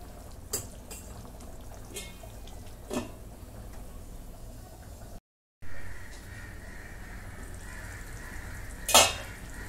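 Chicken korma cooks on low heat in a pan while it is stirred, with occasional spoon scrapes and clinks over a soft, quiet simmer and one sharper clink near the end, with no voices.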